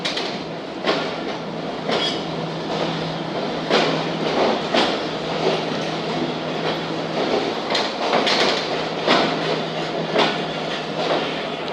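Tezgam Express passenger train running, its wheels beating out a steady, loud clickety-clack rhythm over a continuous rumble of rail noise, with no voices.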